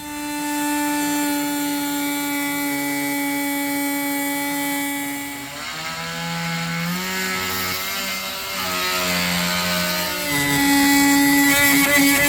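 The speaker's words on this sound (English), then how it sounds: "let's get some power tools out" A power tool whines steadily as it trims away a part aboard a boat during electrical work, its pitch dropping and wavering under load midway before rising again, loud and close with no talk.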